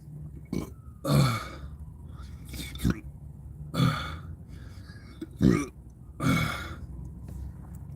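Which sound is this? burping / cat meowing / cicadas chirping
burping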